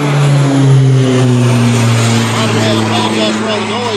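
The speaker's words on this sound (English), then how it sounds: "Much I can do about highway traffic and airplane traffic here." Highway traffic rumbles beside a house while an airplane passes overhead, a loud sustained engine drone whose pitch slowly shifts as it moves.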